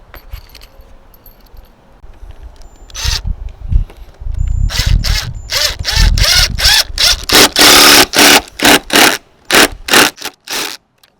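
A power drill driving screws while a sliding porch door is installed, starting with scraping and handling noise, then repeated short loud drill bursts in a choppy rhythm, close by.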